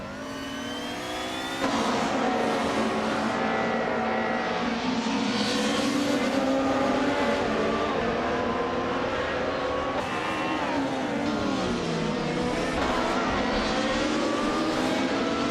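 Several race cars lap in a racing video game, led by a 1995 BMW M3 GTR Evo, engines droning loud and steady with rising and falling revs throughout, no talk over the racing.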